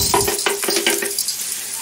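Rice dropped into a hot pan with burnt, blackened garlic, a quick burst of sizzling and stirring scrapes that comes in several short crackling pulses, close and fairly loud, then fades to a softer fry.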